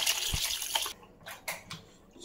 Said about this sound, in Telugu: చికెన్ వీలైనంత బాగా నీట్గా కడగాలి. నీట్గా ఇప్పుడు పీస్ తీసుకొని కడగాలి.